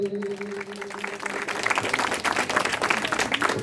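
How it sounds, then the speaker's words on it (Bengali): Applause at an award ceremony and cultural program, starting after a brief voice and swelling into dense clapping from a crowd that builds and holds to the end. "একটু হাতের তালি হবে জোরে"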